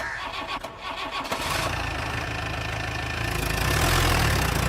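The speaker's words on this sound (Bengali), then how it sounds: "একটা কুঁ কুঁ শব্দ করে স্টার্ট হলো জিপের ইঞ্জিন" Jeep engine starting as a radio drama sound effect: a starter cranks briefly, then the engine catches and settles into a loud, steady rumbling idle, close and with no voices.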